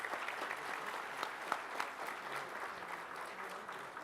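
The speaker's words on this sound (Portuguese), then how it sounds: "uma salva de palmas, meu querido Arnaldo Jardim" A seated audience at an agribusiness sector event in São Paulo gives a steady round of applause for Arnaldo Jardim, a dense continuous patter of many hands, with a few sharper claps standing out.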